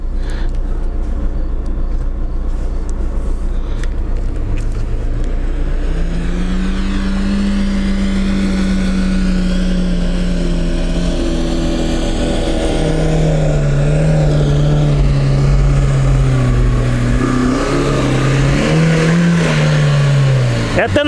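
Lada Niva engines driving over sandy ground, a loud close drone whose pitch climbs and falls as the revs change, with some talk underneath.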